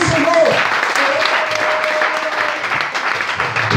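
A church congregation claps in praise during a service, a dense continuous patter of hands close and loud, with voices mingling underneath throughout.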